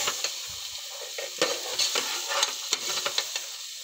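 Green peas frying in hot oil, with a close crackling sizzle broken by quick spatula scrapes and taps against the pan, steady and unaccompanied by voices.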